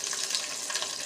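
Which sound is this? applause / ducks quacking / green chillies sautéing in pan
green chillies sautéing in pan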